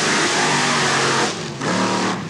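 A 1994 mud racing car at TNT Raceway Park roars off the line, its engine loud and close in a steady, full-throttle blast that dips briefly before surging again.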